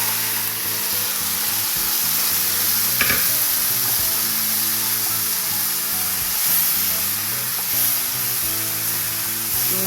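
Beef hits hot oil in a pan for a Kerala-style coconut beef fry and sizzles steadily while a utensil stirs it, with occasional scraping knocks against the metal.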